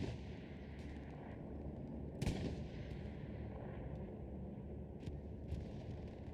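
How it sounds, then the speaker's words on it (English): Bombing run during a Hell Let Loose match: a dense, continuous rumble of distant blasts and gunfire with one sharper crack near the middle, steady and fairly loud throughout. "Sounds like a bombing run also going to drop in."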